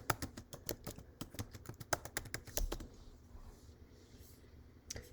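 Rapid bursts of keystrokes on a computer keyboard, close and crisp, typed in an uneven run for nearly three seconds, then quiet with a single late tap.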